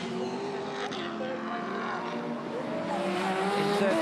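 Race cars, a Nissan Skyline and a Ferrari, roaring down the straight at a Sports GT race at Symmons Plains, a steady, distant engine drone with rising and falling tones from start to end.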